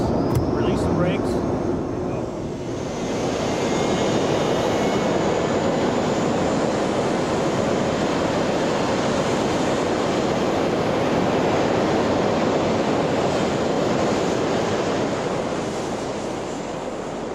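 A U-2 spy plane's jet engines spool up to high power before takeoff, a loud, steady broadband roar that swells after the first few seconds and holds constant, with a faint high whine above.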